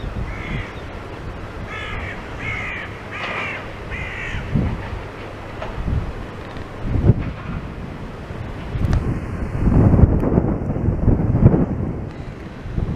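Gusty wind rumbles across the microphone on a bridge in Blackpool, growing louder toward the end, while a crow caws repeatedly in the early part.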